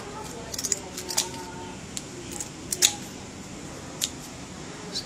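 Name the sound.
scissors cutting open a fish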